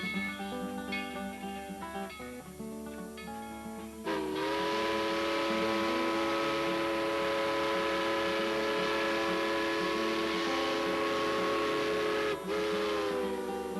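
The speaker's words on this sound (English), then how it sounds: "Even after you leave, you can still hear that whistle echoing off the hills." A steam train whistle on the Tweetsie Railroad blows long and loud, its steady harmonic tone sustained for many seconds, briefly dipping and swelling once before carrying on.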